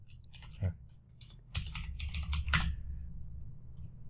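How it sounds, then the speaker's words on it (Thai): Someone types a chat message on a computer keyboard in Google AI Studio, producing quiet, close clicking keystrokes in short irregular bursts over a low background hum. "แล้วก็พิมพ์คุยได้เลยนะครับ"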